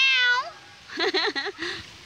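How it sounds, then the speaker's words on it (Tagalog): A cat meowing close by, two clear drawn-out meows with a rising and falling pitch, the second more wavering, loud and alone. "May pusa dito."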